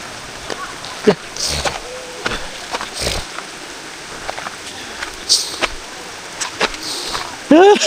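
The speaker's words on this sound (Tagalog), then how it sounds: "Grabing ulan, lakas, walang tigil." Heavy, steady rain pours at a campsite during a storm, a constant wash of downpour with occasional splashes and knocks, while people talk intermittently over it.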